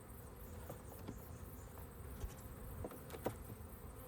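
A few bees on a backyard beehive frame give a faint, continuous buzzing with a handful of soft taps and bumps, quiet and with no voices.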